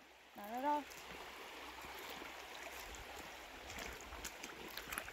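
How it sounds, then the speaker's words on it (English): Creek water streams and rushes steadily at low level while people wade across it, with a brief voice at the start and soft splashes throughout. "All right, let's go across the creek."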